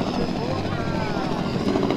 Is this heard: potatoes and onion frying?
no